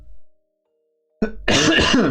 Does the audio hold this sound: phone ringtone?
no